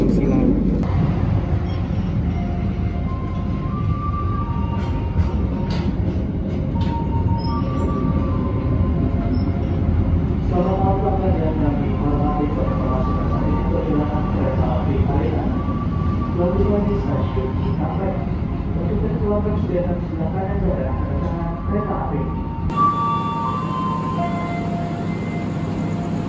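Inside the Harina passenger train travelling between Bandung and Semarang at night, a steady rumbling roar of wheels and carriage runs throughout with faint squeals and tones, and the noise shifts near the end.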